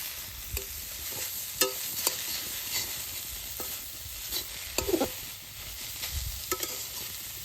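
Pumpkin and ginger frying in ghee give a soft, steady sizzle close by, broken by repeated sharp clinks and scrapes of a spoon stirring in the pan, with no voices.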